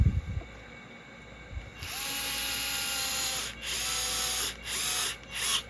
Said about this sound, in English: we're going to put our screwdriver in the pivot ball. And then we're going to push the threads of the pivot ball up to the suspension arm